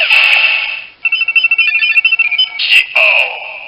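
A DX Ziku Driver toy belt plays bright electronic sound effects, a sustained chime, then a rapid run of short beeps and another tone, close and loud with no talking.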